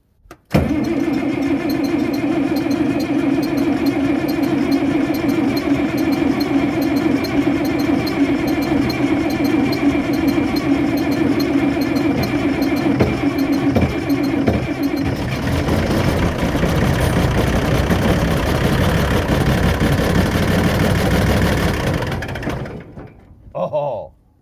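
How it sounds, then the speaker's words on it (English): An International Harvester 1486 tractor's diesel engine cranks at length on a cold morning, a loud, continuous, labouring starter grind near the microphone that keeps churning without catching, then stops abruptly. "Let's see if we can get the 1486 to start."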